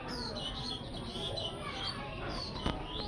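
Pigeons kept at home, two pairs of nesting birds scuffling with each other, give faint chirps and calls over a steady, noisy background, with no clear talk.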